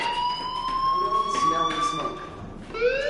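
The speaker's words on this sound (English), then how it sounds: "Hey, do you hear that fire alarm?" Fire alarm ringing in the Life Is Strange video game, a steady, loud electronic tone that holds unbroken through the whole stretch, with a brief rising sweep near the end.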